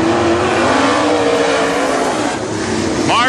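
WISSOTA modified race cars roar around Princeton Speedway, a loud continuous engine din of several cars racing together with no pauses.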